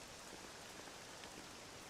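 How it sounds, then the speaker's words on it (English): Steady, even rain patter from a Dragon Quest VII remake scene, a soft continuous hiss of drops falling on surfaces, faint and uniform throughout with no voices. "This accursed rain will chill ye to the bone"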